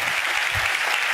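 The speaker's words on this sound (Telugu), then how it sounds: "చప్పట్లు కొడుతూ దేవునికి స్తోత్రాలు చెప్దాం." A Telugu church congregation claps in praise of God, a brief burst of dense, continuous crowd clapping with no pause.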